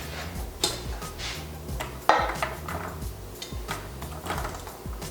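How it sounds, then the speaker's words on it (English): Cooked ziti pasta spooned into a buttered baking pan, with repeated clinks and scrapes of a metal spoon against the pan in uneven bursts, one sharper knock near the middle, close and moderately loud with no talking. "So we're gonna do half the ziti in my buttery pan"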